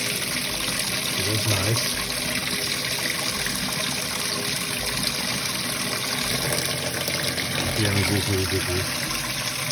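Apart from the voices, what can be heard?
water jet ejected from prototype micro hydro turbine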